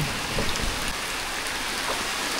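Heavy rain pours steadily during a typhoon, a dense, continuous roar of drops on surfaces with no break, loud and close throughout.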